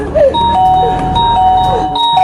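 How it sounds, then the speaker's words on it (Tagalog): A doorbell is pressed, and a loud electronic chime rings close by with sustained bright tones that sound repeatedly across the moment, with a low hum and some background noise underneath. "Pumipindot sa doorbell namin."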